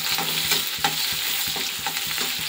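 Spices frying in hot oil for a fish curry in a small home kitchen, steady sizzle with intermittent stirring scrapes of a spoon against the pan, close and continuous, no talking.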